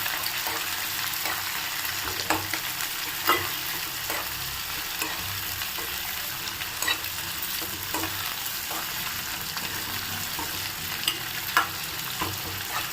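Two chopped onions roast in a hot pan for tomato curry, giving a steady, close sizzle broken by occasional scraping stirs, with no talking.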